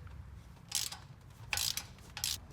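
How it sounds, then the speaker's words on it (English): Three short bursts of ratchet clicking from a 3/8 drive extension loosening a plug during a Polaris General turbo install, each burst about a third of a second, close by with no talking. "we're also going to need a 3/8 drive extension, and it just pops right in, and you're good to go ahead and loosen it"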